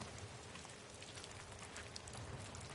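Steady rain hisses throughout in the video game Ghost of Tsushima, a dense, even patter of drops on surfaces with no gaps and no voices.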